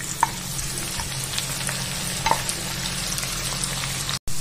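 Finely chopped onions fry in hot ghee with cumin seeds for rajma masala, giving a continuous soft crackling sizzle with a few sharp clicks and a brief dropout near the end.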